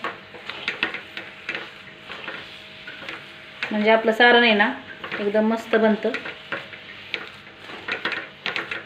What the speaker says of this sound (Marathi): हा गुळ आपल्याला या किसामध्ये मस्त असा मिक्स करून घ्यायचा आहे आणि परतत राहायचं आहे